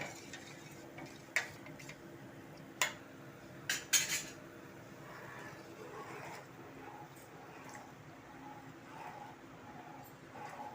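Cornflour mixture for halwa being stirred in a metal pan, with a few sharp utensil clinks against the pan early on and soft, quiet scraping and stirring after that.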